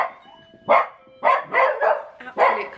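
A puppy barks several times in short, close, loud bursts with brief pauses between them, each yap sharp and forceful.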